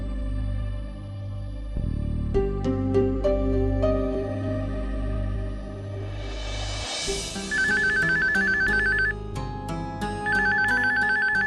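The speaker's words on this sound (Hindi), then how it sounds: "लगता है इसके घर से फोन है।" A phone ringtone plays loudly over music, its repeating electronic melody cycling in regular bursts with no talking.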